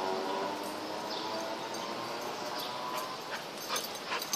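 A dog whimpers and whines in short, high bursts while playing with a soccer ball, the sounds fairly close over steady outdoor background noise.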